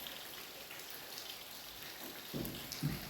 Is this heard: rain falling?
yes